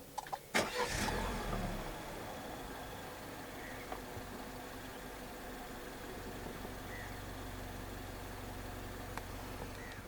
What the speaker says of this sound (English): Put your foot on the brake and press the start button just ahead of the gear lever.